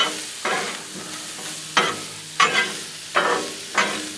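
Shrimp stir fry sizzles on a Blackstone griddle with broccoli and butter, a steady hiss broken by five sharp scraping bursts of a spatula tossing food, close and loud with no talking.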